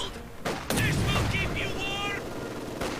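Gunfire shooting up cover in the Company of Heroes 2 battle, rapid bursts of shots and impacts over game noise, with someone talking over it.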